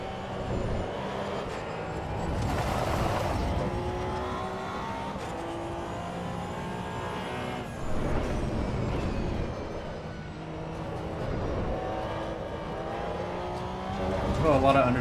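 A Porsche Cup race car driven in the video game Assetto Corsa Evo, its engine revving up and down through gear changes in a steady, close drone while someone talks over it throughout.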